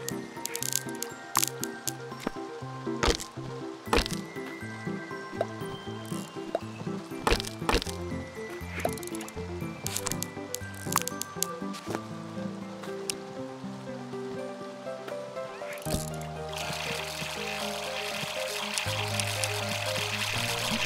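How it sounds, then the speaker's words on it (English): Repeating watery splash and drip effects from the Staxel video game's fishing, glitching in a rapid loop over music-like tonal game sounds, fairly loud throughout with a denser wash near the end. "When you were fishing before, it was spamming the water sound."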